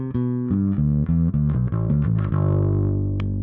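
Electric bass played on its P pickup alone through an Origin Effects Bassrig Super Vintage pedal: a run of plucked notes with a full, warm, slightly driven tone, ending on a sustained held note.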